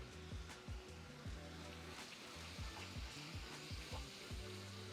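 Ground beef browns and sizzles in a skillet for nachos, with a steady close frying hiss and soft scraping stirs, no voices.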